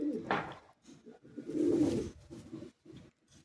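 Madrasi high-flying pigeons at a loft in Bagnan near Kolkata coo close by in soft, rhythmic, throaty pulses, with one longer swelling coo in the middle.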